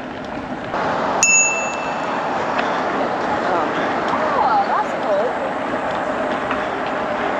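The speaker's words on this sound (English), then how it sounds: "I love ringing that bell." A bicycle bell rings once, sharp and close, on a ride along a waterside cycleway, then outdoor riding noise carries on with no talk.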